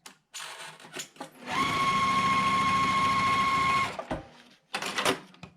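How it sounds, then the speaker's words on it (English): A sewing machine stitches pieced quilt block rows together in one steady, close whirring run of about two seconds, with a voice talking briefly before and after. "just go ahead and sew them together"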